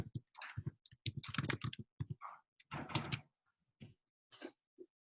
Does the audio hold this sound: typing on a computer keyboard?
yes